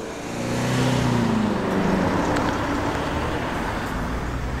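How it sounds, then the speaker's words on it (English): MGB classic sports car rolling in at a car meet, its engine note rising as it approaches and then holding as a broad, fairly loud rumble over background road noise. "We've also got a bigger brother, the MGB, rolling in."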